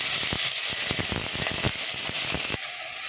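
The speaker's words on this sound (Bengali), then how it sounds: "রাঁধুনিটা একটু নাড়াচাড়া করে আমি আলুগুলো দিয়ে দিলাম।" Potatoes dropped into hot oil already tempered with radhuni seeds give a loud, steady sizzle with dense crackling and popping, easing to a smoother hiss near the end.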